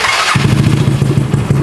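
A motorcycle engine cranks with a brief starter whir, then catches and settles into a loud, close, steady putter with a rhythmic low pulse.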